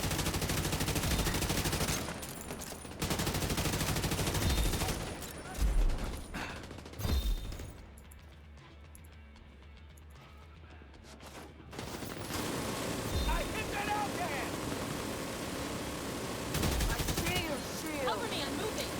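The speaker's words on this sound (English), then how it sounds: "Feels weird to fire a TKB without recoil." Bursts of automatic TKB rifle fire in a video game, loud rapid volleys separated by quieter gaps with mechanical clicks, under a voice.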